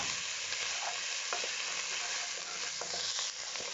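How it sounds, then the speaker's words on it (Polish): Bell peppers, ginger and garlic fry hard in a pan for a vegetable curry, a loud, dense, steady sizzle broken by a few soft scrapes of stirring. "Następnie lecimy papryka, imbir i czosnek. To podstawa, jak już Was nauczyłem. Przesmażamy to przez chwilę."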